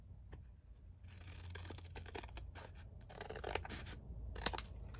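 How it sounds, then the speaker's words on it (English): Paper being cut down with scissors while making a tall, skinny folio, giving a steady run of close, soft snipping and scraping followed by a sharper snip near the end. "So just going to cut this down."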